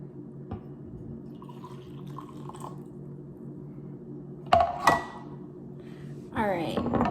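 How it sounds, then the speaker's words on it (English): Water pours into bowls set out for dyeing eggs, with a few dripping splashes, then a longer filling gush near the end against a quiet kitchen hum. "I am going to put 1 cup of water"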